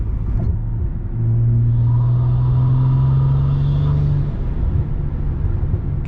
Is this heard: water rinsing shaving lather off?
no